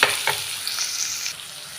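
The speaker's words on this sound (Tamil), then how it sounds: "இப்போ வந்து இந்த பயிருக்கு வந்து வெங்காயம் போட்டு தாளித்து விட்டுக்கலாங்க" Onions, mustard seeds, dal and dried chilies hit hot oil in a kadai with a loud, close, continuous sizzle and crackle, a sharp burst at the start settling into steady frying hiss, with no voices.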